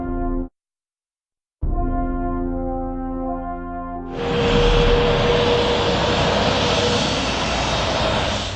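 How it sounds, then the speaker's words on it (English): Aircraft noise outside Exeter International Airport: a tonal engine drone breaks off, returns, then swells into a loud, broad roar that holds steady. "Right, here we are outside Exeter International Airport."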